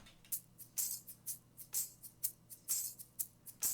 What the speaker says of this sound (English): And then we got a tambourine down here.